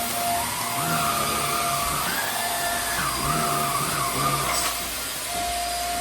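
A Hoover Air Steerable upright vacuum cleaner runs steadily and loudly, its motor whine holding a constant drone with slight shifts in pitch as it is moved, no talking over it.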